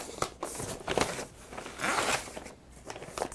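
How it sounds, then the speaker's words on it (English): Brown paper being folded and pressed down around a box, giving irregular crinkling and rustling bursts close to the microphone, with no talking. "Fold it in, push it down, and we're going to fold the top down and the bottom up."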